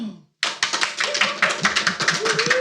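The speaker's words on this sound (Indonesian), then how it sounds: "Tepuk tangan dong." A small studio audience at a talk show claps after a sudden start, brisk uneven hand claps close by, with a voice faintly murmuring underneath.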